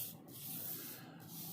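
A pencil mark is erased from paper with a soft rubbing scratch, a continuous back-and-forth friction sound with faint strokes, quiet and close.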